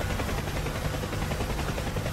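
A UH-1H Huey medevac helicopter in a DCS flight game thumps along with a steady, dense rotor and turbine roar heard from inside the cockpit, continuous and unbroken.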